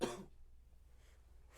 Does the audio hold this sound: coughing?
yes